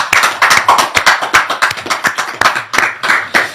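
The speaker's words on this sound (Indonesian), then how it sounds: "Tepuk tangan buat Gus Islah Bahrawi" Close, loud clapping for a guest on an Indonesian talk show, a few pairs of hands striking in distinct, fairly regular claps rather than a blended crowd roar.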